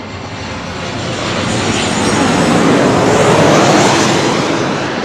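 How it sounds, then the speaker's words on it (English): A Southwest Boeing 737-700 airliner arriving from Las Vegas roars steadily overhead, its loud broadband engine noise swelling and holding throughout. "This is the Maryland 1, 737-700 with Southwest coming in from Las Vegas."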